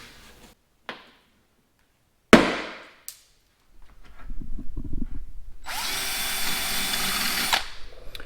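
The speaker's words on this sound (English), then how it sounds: "the little remnants of the rivet, I just used a 9/16 drill bit and knocked those out" Sharp metallic knocks and pops as rivet remnants are knocked out on a third-generation Toyota 4Runner, followed by a power drill with a 9/16 bit whirring, first lower and uneven, then a high steady whine before stopping.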